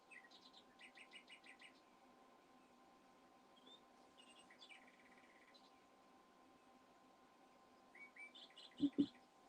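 A pet bird chirps indoors in short, rapid bursts of high tweets, with a quiet stretch in between, then resumes near the end along with a couple of louder knocks, over a steady low hum.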